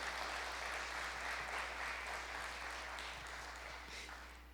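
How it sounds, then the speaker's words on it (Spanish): A church congregation breaks into sustained applause, a dense wash of clapping heard at moderate distance over a low steady hum, fading slightly toward the end. "Dale un aplauso al Rey por eso."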